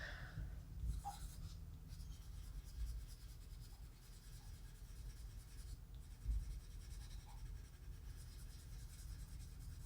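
Colored pencil shades across paper in soft, continuous scratchy strokes, faint and close, a steady rasp with slight pauses between passes and no talking.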